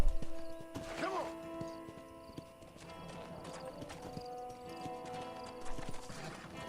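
Horse hooves clip-clop steadily in the Western video game Red Dead Redemption, a continuous rhythmic run of hoofbeats at moderate volume against faint ambient game sound, with no speech over it.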